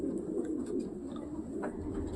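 Low, soft cooing of pigeons repeats in a murmuring rhythm, fairly close, with faint background noise.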